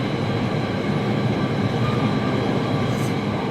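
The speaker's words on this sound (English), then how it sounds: "the train came a bit later than anticipated." A train rolls in close by with a steady, dense rumble and a rattle of wheels on the rails throughout, and a faint squeal comes briefly near the end.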